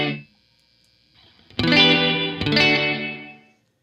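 Artifakt Lo-Fi Elements µVerb pedal set to short reverb feedback, with two bright, distorted guitar-like strikes that ring briefly and then cut off cleanly into silence.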